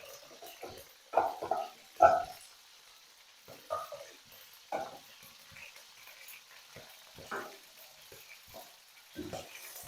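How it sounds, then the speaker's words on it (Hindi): Chicken liver frying in a little oil on a tawa, giving soft, irregular sizzles and stirring scrapes close by, fairly quiet with occasional louder bursts. "कलीजी हमने 3 मिनट फ्राई कर दिया है।"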